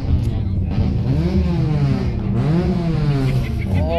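A car engine revs and accelerates at the Knockhill racing circuit, its pitch rising and falling in sweeping waves, loud and close, with people talking over it.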